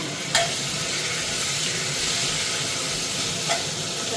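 Onions and tomatoes fry in a pan for spicy chicken gravy, a steady close sizzle and hiss with two brief stirring scrapes.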